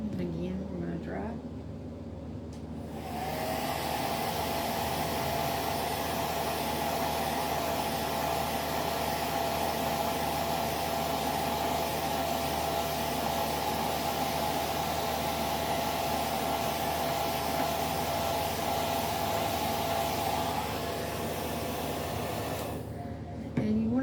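A hair dryer blows steadily on wet acrylic paint for a rose painting, a loud continuous whooshing roar that switches on after a few seconds and runs unbroken for about twenty seconds before cutting off.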